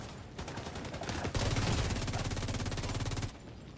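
Enemy gunfire in a shooter video game, a rapid automatic burst rattling in steady rhythm at moderate distance, briefly intensifying midway before cutting off, with no talking over it.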